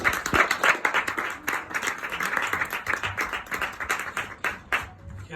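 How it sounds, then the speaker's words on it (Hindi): Energetic applause with dense hand clapping from a live audience at a Red and Black show performance in Goregaon, Mumbai, sustained and fairly loud before fading near the end. "जोरदार तालियां गाइस।"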